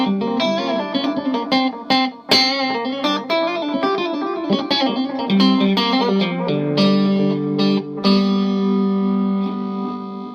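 An electric guitar played through an Egnater Tweaker 15-watt amp rings out in a loud, close run of picked notes and strummed chords, with chorus and echo effects and sustained tones that fade at the end.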